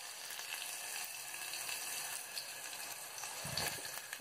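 Mustard and cumin seeds splutter in hot oil, a steady hissing sizzle with faint crackles and a slightly louder burst near the end, heard alone without talk.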